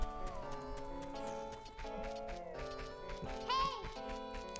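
A horse in Zelda: Ocarina of Time clip-clops along in quick, regular hoofbeats under sustained background game music, with a short bright chime near the end.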